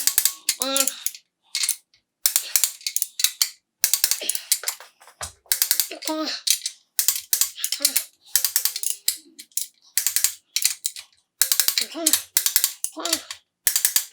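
A torque wrench ratchets in quick repeated clicking bursts while the crankshaft main caps on an LS 5.3 stroker engine build are torqued, with short pauses and a few murmured words between the bursts.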